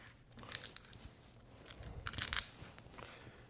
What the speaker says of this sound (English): And then I'm just going to crush my garlic